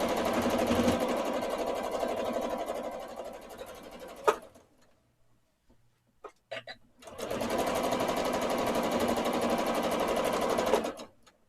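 A sewing machine stitches a wavy quilting line on a quilt section, running steadily and fairly loud for about four seconds, stopping for a short pause with a few soft clicks, then running again to the end.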